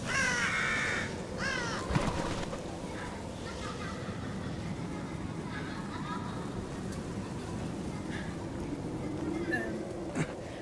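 Crows caw in the video game The Evil Within, hoarse calls near the start and fainter ones later, over a constant buzzing insect drone in a rural farm setting.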